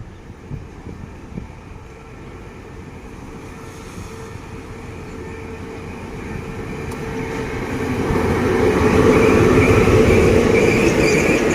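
A passenger train rumbles through Photharam station in Thailand without stopping, its low roar building steadily and growing loudest near the end, with faint rail squeals.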